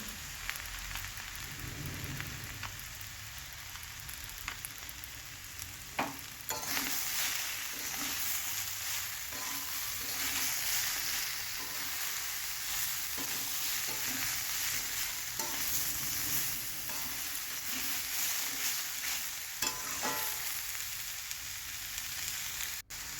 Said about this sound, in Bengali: লবণ দিয়ে ভালো করে মশলাটাকে সবজির সঙ্গে কষিয়ে নেবো